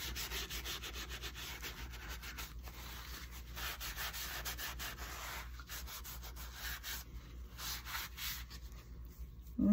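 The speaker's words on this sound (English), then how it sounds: "So I'm going to put some clear wax on the picture itself. I'm going to wipe it back a little more." Clear wax wiped back by hand over a painted pumpkin picture, a soft continuous rubbing and brushing texture, faint and close, with steady back-and-forth strokes throughout.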